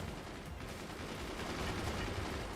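Dense, crackling barrage of mortar and weapon fire in the strategy game Forts, a steady rumbling roar of overlapping blasts at low level, with no voices.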